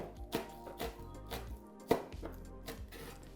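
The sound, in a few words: knife roughly chopping spring onion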